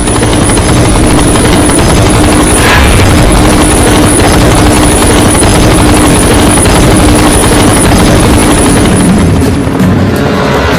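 A helicopter flies close and loud throughout a film scene, its steady rotor roar and high whine continuous and unbroken, with no speech over it.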